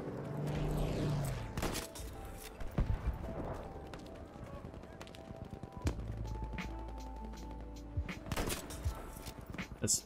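Scattered gunshots ring out in a first-person shooter game, several sharp reports spread across the moment, some distant, mixed with running footsteps and game ambience.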